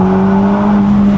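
A Ferrari Roma Spider convertible's engine sings a loud, close, steady high-rpm note, held without a break through the short moment.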